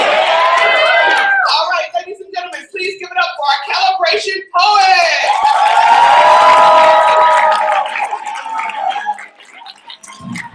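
An audience at a youth slam poetry competition cheers, whoops and claps for a poet taking the stage, with loud, close, ringing shouts and bursts of cheering that rise and fall throughout.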